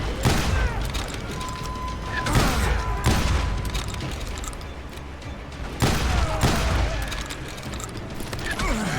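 Gunfire in the Western shooter video game Call of Juarez: Gunslinger, with repeated loud shots and booming blasts over a dense, continuous game soundscape and no clear talk.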